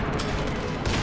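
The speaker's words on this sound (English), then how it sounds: "Oh, there's just a grenade!" A grenade blast in the video game Half-Life, a dense, sustained wash of explosive rumble and crackle filling the whole second, loud and continuous with a slight swell near the end.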